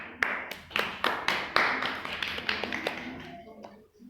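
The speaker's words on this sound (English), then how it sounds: "Clap for Mustabshira." A Class 3 classroom group claps for a student in a treasure hunt activity, a run of sharp, evenly spaced claps that fade out toward the end, with voices talking over them.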